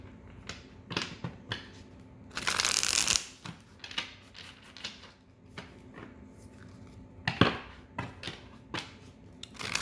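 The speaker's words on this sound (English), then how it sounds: "I got a really good shuffle" A deck of tarot cards being shuffled by hand in quick riffling bursts, with a loud sustained flurry near the start and a sharper burst later, amid soft handling clicks and taps.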